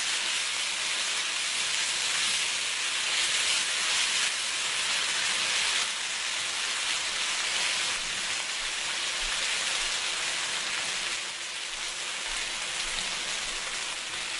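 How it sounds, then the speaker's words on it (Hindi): Garlic and ginger paste sizzling in a hot pan for a chicken pulao, a steady broadband frying hiss that stays loud and even throughout with no voices. "लहसुन अदरक डालकर 1 मिनट तक हमने फ्राई करनी है"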